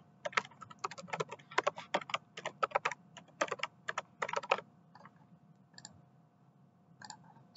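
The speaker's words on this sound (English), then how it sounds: "type the task name." Keys on a computer keyboard tapped in quick, irregular bursts while a task name is entered, then a few slower isolated clicks, close and fairly quiet with no talk.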